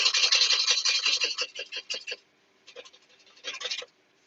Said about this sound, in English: you can see the shavings coming off, and that's quite a nice easy cut.